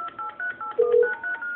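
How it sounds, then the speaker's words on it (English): Telephone keypad dialing for a phone call, a quick run of short touch-tone beeps with one longer, louder tone in the middle, heard close and alone without any talk. "We're going to make a quick phone call"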